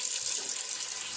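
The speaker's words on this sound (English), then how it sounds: "we are going to fill it with filtered water." Filtered water running from a tap into a pan of beans, a steady broadband hiss and splash throughout, close and continuous with no talking.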